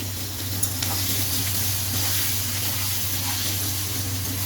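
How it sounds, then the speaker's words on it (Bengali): Potatoes and capsicum frying in oil in a pan give a steady, close sizzle with a constant low hum beneath, and faint stirring ticks now and then. "আলুগুলো একটু ভাজা হয়ে আসছে, এবার আমি অর্ধেক ক্যাপসিকাম দিয়ে দিলাম।"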